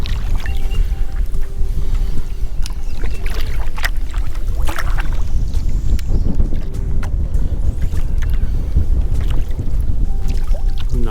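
Breeze buffeting the microphone aboard a small boat on the Tar River, a continuous loud rumbling wind roar with scattered knocks and clicks and no talking.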